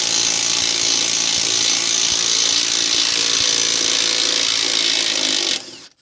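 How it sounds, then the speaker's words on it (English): A ratchet socket wrench with an 11/16 socket loosens a shoulder bolt on a boat trailer camper hanger, giving a steady, loud continuous ratcheting whir close up for about five and a half seconds before stopping abruptly. "Shoulder bolt, so it's gonna be an 11/16 socket."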